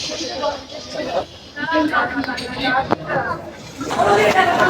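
Crowded train carriage on the Haldibari–Sealdah express, with overlapping nearby chatter from many passengers rising and falling over a faint rolling background.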